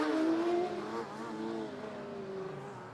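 A Formula Student race car on an endurance track passes by, its engine note loud at first, then falling in pitch as it pulls away, with a steady harmonic whine fading into the distance.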